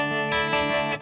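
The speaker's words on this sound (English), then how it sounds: "washed out, reverberous, echoey sound going" An electric guitar runs through a Strymon Flint reverb and an Earthquaker Dispatch Master, sustaining a loud chord that swells twice and then trails off into a washed-out, echoing tail.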